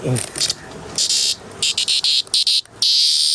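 A cricket held close chirps in loud shrill bursts, starting with longer trills and then breaking into short rapid pulses, with some talking at the start.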